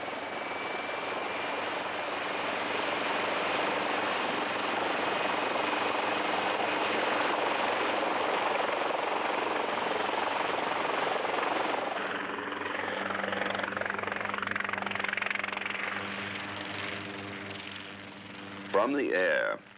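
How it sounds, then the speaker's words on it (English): A helicopter lifts off from the Cousteau expedition for reconnaissance over Thera in 1978, its steady rotor roar loud and continuous, shifting in tone partway through as the engine changes pitch, with a brief burst near the end. "the helicopter lifts off to make the first reconnaissance"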